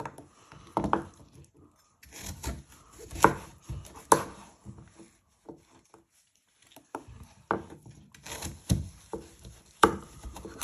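A knife chopping pumpkin into pieces on a board: irregular, sharp, close thuds come in short bursts with brief pauses between, clear and unaccompanied by talk.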